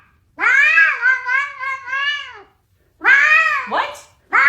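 A cat in an AI-generated Sora video meows: a long, loud, wavering yowl followed after a pause by a shorter second meow and a brief squeak, close and clear with no other sounds.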